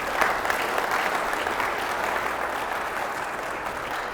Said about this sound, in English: one more quick round of applause for Sage